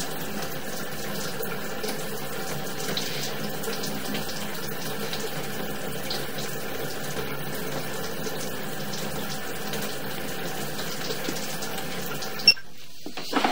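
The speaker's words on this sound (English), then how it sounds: "I'm going to turn some water on to wash the camera off." Steady tap water running into a 4-inch cast iron sewer pipe hisses and gurgles continuously, echoing inside the pipe, with a brief clunk near the end.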